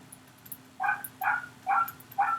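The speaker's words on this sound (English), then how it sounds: "Do you guys hear the dog barking upstairs?" A dog barks somewhere upstairs in a building: four distinct, evenly spaced barks, moderately loud and slightly muffled, over a quiet background hum.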